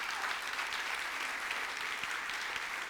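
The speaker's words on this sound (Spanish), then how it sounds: "Démosle un aplauso al Señor" Church congregation applauding the Lord, dense sustained clapping from a full room with a steady, even intensity throughout.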